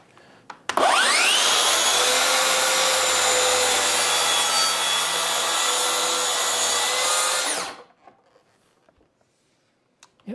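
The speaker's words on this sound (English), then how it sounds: "That's a Makita track saw." A Makita cordless track saw squares off the end of a wooden cutting board, its blade whining loud and steady for about seven seconds before spinning down and going quiet.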